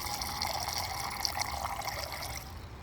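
A small hose runs water, a steady hissing, splattering flow with light splashing, close and continuous, easing slightly at the end.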